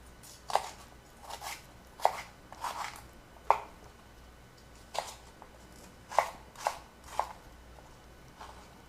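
Knife chopping celery on a cutting board for mirepoix, sharp irregular taps with crisp crunches, fairly quiet and close, no talking.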